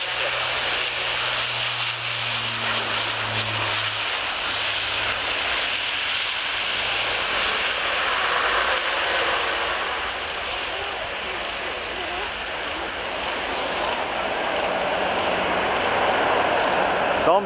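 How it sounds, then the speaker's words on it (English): An Airbus A400M turboprop military transport rolls for takeoff at an airshow, its engines a loud, sustained broadband roar that holds steady and swells slightly, heard from a distance with crowd and commentary faintly beneath. "Rolling now, the Airbus"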